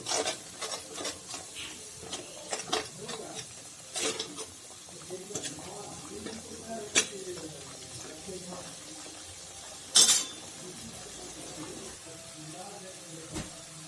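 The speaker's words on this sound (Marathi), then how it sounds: "हा मसाला आपल्याला छान भाजून घ्यायचा आहे, खरपूस असा भाजून घ्यायचा आहे मसाला आपल्याला" Spice masala roasting in a pan while being stirred gives a soft scraping, rasping sizzle with repeated spoon strokes, moderately close, accompanied by a faint background hum.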